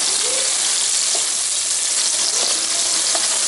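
Onions hit the hot pot for a desi chicken stew, giving a dense, continuous close-up sizzle that holds steady throughout.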